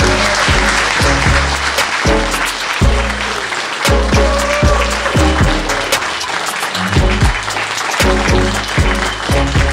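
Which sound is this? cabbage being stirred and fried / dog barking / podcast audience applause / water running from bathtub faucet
podcast audience applause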